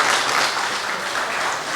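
Applause at a public meeting on a shared boundary adjustment: a short, dense burst of many hands clapping at once, loud and steady throughout, with no voices.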